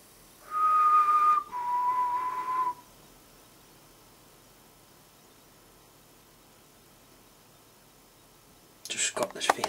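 Two sustained whistled notes, the first slightly higher, in a quiet space, followed after a long silence by a brief burst of sharp noise.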